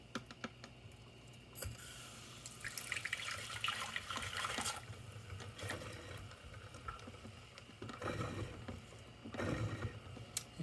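Water being pulled through a La Pavoni lever espresso machine, irregular hissing and gurgling spurts with clicking mechanical sounds, close up and fairly quiet.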